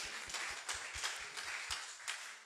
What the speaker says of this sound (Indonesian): Yes, beri tepuk tangan bagi Tuhan.